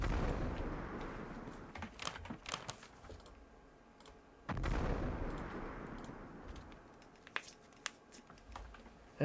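Artillery fire support in a Battle of Gazala war video game: two heavy booming blasts a few seconds apart, each decaying into rumble, with scattered sharp clicks and small pops between.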